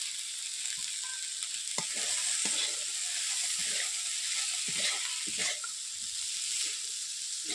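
Fried potatoes, yardlong beans and soya chunks frying in a pan, a steady bright sizzle with scattered clinks and scrapes of a spoon stirring, close and continuous.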